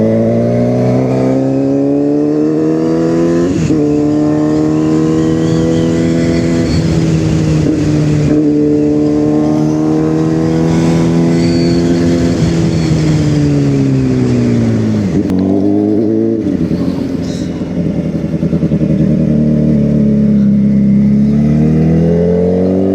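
A QJ SRK450RR motorcycle exhaust drones loudly and close, its engine pitch rising and falling through repeated revs and gear-like shifts for the whole stretch, with no voices.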